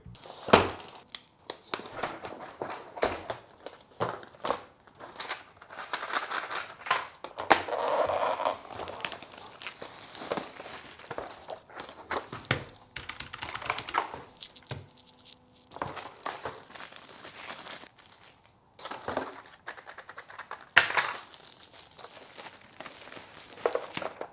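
Typing on an A4Tech S98 Bloody mechanical gaming keyboard with Bloody switches: irregular bursts of close, crisp key clicks and clacks, with short pauses between runs of keystrokes and no talking.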